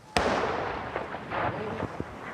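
Booming artillery blasts from a 100 mm howitzer on a front line: one sharp, loud report, then several lower, more distant thumps over a constant roar of background noise, with faint voices beneath.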